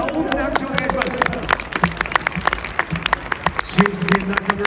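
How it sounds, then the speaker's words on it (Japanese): A stadium crowd applauds at Shunsuke Nakamura's farewell football match as players leave the pitch. Scattered claps and crowd noise sit under an announcer talking over the PA, with the clapping swelling toward the end. "皆さんもう一度大きな大きな拍手をお願いします。"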